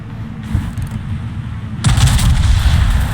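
Naval guns firing in a warship game with a West Virginia and an Atlanta, a loud deep boom cracking in after a low rumbling ambience, followed by a sustained roar of heavy gunfire.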